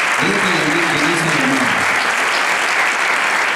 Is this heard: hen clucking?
no